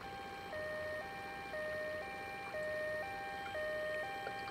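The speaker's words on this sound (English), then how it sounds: "Can I turn off the siren?" Ambulance siren in a driving simulator video game, a steady two-tone electronic wail alternating high and low at an even rhythm, loud and continuous with no talk.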